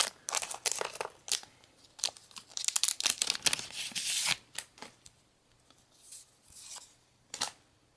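A 2017 Chinese Professional Baseball League card pack torn open by hand, with crinkly foil tearing and rustling in dense close bursts that thin to a few scattered crackles near the end.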